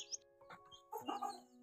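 Village hens and their chicks clucking nearby, a few short soft clucks and peeps in quick bursts, quiet and close.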